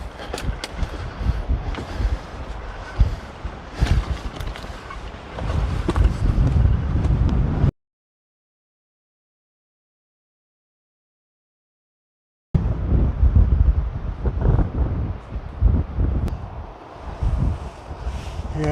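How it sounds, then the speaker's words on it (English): Strong outdoor wind buffeting the microphone, a heavy roaring rumble in gusts, loud and close, with a sudden stretch of silence midway before the blustering resumes. "Wind is enough to really set me off balance when I'm just standing."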